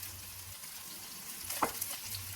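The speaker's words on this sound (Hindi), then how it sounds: "थोड़ी देर अपने आलूओं को जो है वो पकाएं जीरे और कड़ी पत्ते के साथ" Potatoes fry in a pan with cumin seeds and curry leaves, giving a steady, soft sizzle. A brief scrape of stirring cuts through partway.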